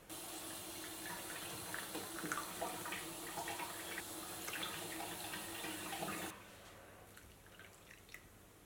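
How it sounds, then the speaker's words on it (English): Warm water pours into yeast for Jamaican spice bun dough, a steady close trickle with faint splashing that runs for several seconds, then cuts off, leaving quiet room tone. "Then I'm going to add 250 ml of warm water to the yeast, and wait a few minutes"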